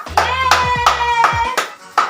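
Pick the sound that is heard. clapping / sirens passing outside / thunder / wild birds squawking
clapping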